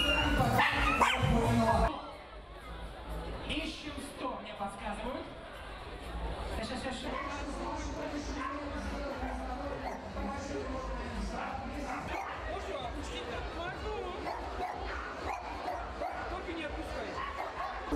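Small breed dogs at a crowded event in Moscow yip and bark in a busy, overlapping chorus, with occasional whimpers under steady human chatter and crowd noise throughout.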